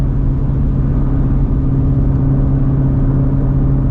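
Engine of a Shelby GT350 running at steady, elevated revs, a loud, even mid-pitched drone held without breaks and with no talking.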